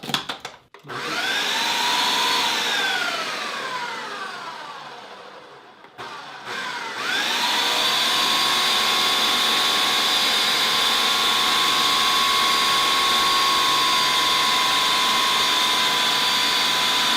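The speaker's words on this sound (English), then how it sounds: "Black & Decker, easy blending for home and on the go." A Black & Decker blender, with water added, whirs up to a loud, steady motor roar with a rising pitch, cuts out briefly near six seconds, then restarts and runs at a constant high whine to the end.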